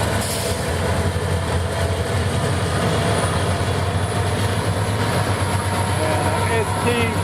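A Norfolk Southern ballast train rolls past on a railway line from the Savannah line to a Macon loop, with a loud steady rumble of wagons and wheel noise, close and continuous throughout.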